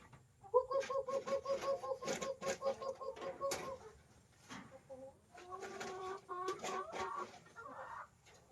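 Hungry farm chickens cluck close by in a steady run of rhythmic calls, pausing briefly, then resuming in busier overlapping clucks against a quiet rural background.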